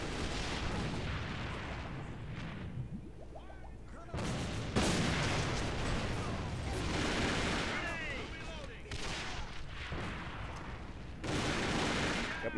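Beretta 92FS pistol and M24 sniper rifle gunfire in the online shooter AVA, sharp broadband shots and bursts recurring across the clip amid game noise, fairly loud and close.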